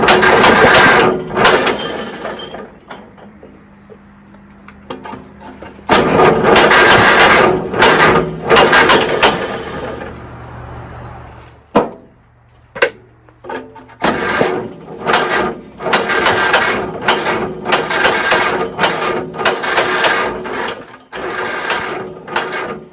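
A small boat engine is cranked on its starter with the throttle set about halfway, giving repeated loud bursts of cranking and sputtering broken by short quiet gaps, then settling into choppy running near the end.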